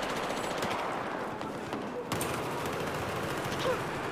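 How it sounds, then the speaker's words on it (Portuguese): Rapid automatic gunfire in the video game Battlefield 4 during a Gun Master match, with dense sustained bursts and a brief gap before the firing resumes. Faint player voices sit underneath. "tem quatro caras atirando em mim"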